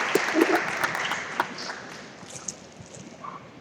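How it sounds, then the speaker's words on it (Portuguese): Brief applause for a new master's graduate in education at an academic ceremony, a burst of clapping that fades quickly to scattered claps and room noise. "palmas para o Marcelo, novo mestre em educação."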